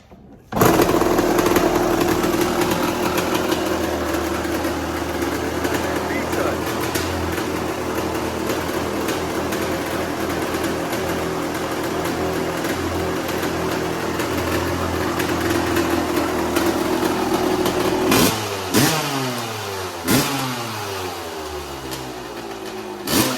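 A 1998 Honda CR250 two-stroke dirt bike, after sitting two months, fires up from cold and settles into a loud, steady idle close by, with a few sharp revs blipping near the end.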